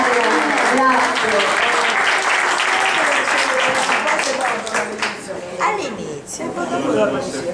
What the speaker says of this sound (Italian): io chiamerei un applauso anche al moderatore